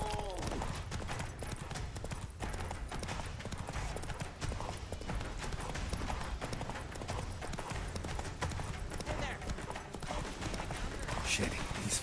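Roach, Geralt's horse in The Witcher 3, gallops in a continuous fast clip-clop rhythm throughout, mixed with dense game ambience and effects at a steady level.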